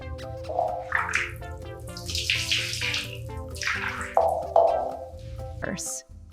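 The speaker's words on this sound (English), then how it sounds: "Just a quick wash." Running water splashes and gurgles as a dog gets a quick wash in a tub, with shifting pours and sloshes close by while someone talks over it.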